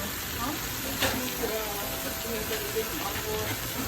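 Kale cooking down in a hot pan, a dense continuous sizzle and hiss with a few soft knocks of a utensil, close and steady throughout.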